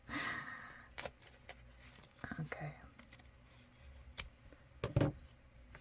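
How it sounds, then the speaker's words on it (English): Micro-tipped scissors cut thrifted denim with a few sharp, close snips and faint rustling of fabric. A quiet voice speaks briefly. "I need my micro-tipped scissors."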